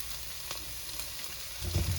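Turkey Salisbury patties brown in a pan with a steady, moderate sizzle and a few crackles, and the sizzle swells louder near the end.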